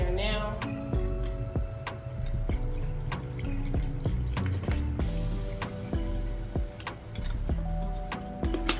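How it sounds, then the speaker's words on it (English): Bragg's apple cider vinegar poured into a jar packed with citrus and herbs, a close glugging, trickling stream with many bright drips and splashes continuing throughout. "Pour this Bragg's in there now."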